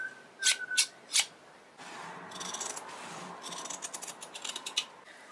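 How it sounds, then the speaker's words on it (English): Scissors snip fabric for an embroidery hoop: three crisp, separate cuts close by, then a longer stretch of rustling fabric handling broken by quick snipping strokes, all fairly quiet with no talking. "The first thing I do is cut out a piece of fabric big enough to have a little bit of excess around the perimeter"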